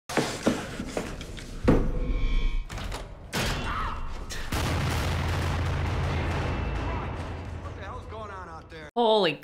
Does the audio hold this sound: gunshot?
yes